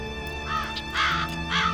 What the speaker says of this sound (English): A bird's nest, and its owner is a criminal raven.